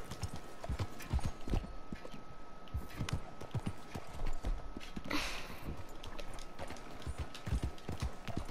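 Horse hooves clip-clop steadily in Red Dead Redemption, a rhythmic run of close, distinct hoofbeats through the city of Saint Denis, with a faint whinny and ambient town noise behind.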